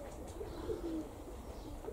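Young pigeons give soft, faint coos in a few short phrases against a steady background hiss, with no voices.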